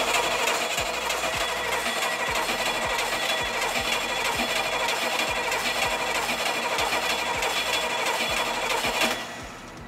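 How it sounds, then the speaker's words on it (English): A car engine being cranked over for a timing-light check after timing adjustments, with a steady rhythmic chugging of repeated compression pulses that runs loud and continuous before dropping off near the end. "let's crank the engine over and check it with a timing light again to see where we're at"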